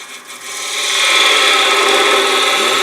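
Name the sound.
woodturning gouge cutting wood on a lathe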